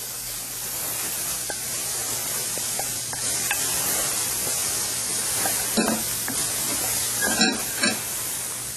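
Pork sizzles and spatters steadily in a hot pan while oyster sauce goes in, with a constant hiss, a few sharp pops and clinks of a utensil stirring. There is no talking.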